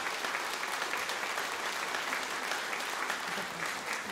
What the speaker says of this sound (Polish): Przywitajmy ją naprawdę wielkimi brawami.